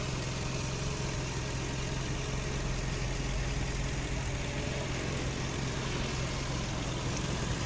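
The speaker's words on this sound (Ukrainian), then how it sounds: "Ось робота двигуна" A 1.6-litre MPI petrol engine in a 2009 VW Touran idles steadily with a low, even hum and faint mechanical whir, continuous and close.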